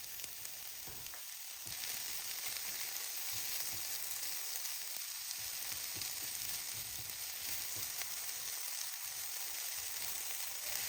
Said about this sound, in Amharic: የተከተፈውን ሽንኩርት እናደርግና ውሃው መጠጥ እስኪልልን ድረስ እናበስለዋለን።